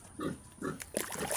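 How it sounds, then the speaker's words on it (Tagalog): Pigs that have just finished eating grunt and snuffle close by, several short, soft bursts in quick succession with no talking. "Yan na po sila, mga kababoy."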